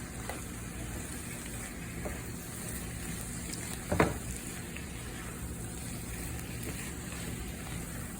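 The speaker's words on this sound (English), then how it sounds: "I'm gonna get at a quick stir." Heart of palm with seasonings and powders sizzling in a cooking pan for vegan seafood lasagna, a steady fry with a brief louder scrape of stirring midway.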